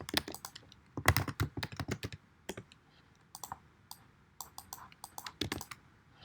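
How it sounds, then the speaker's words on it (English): Irregular bursts of typing on a computer keyboard, clusters of crisp close key clicks with short pauses between runs. "And you can try typing this like that."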